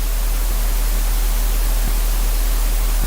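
Loud, constant white noise hisses in the background, a flat static wash with a faint low hum beneath it and no talking.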